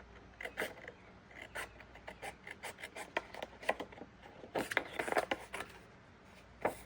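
Scissors snip repeatedly through small ATC-size paper cards with quick, faint cuts and rustles, close up and quiet, with no talking.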